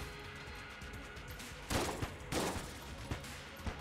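Gunfire in the pixel-art dungeon shooter Enter the Gungeon, faint, steady shooting sounds with a couple of louder bursts of impacts midway and no voices.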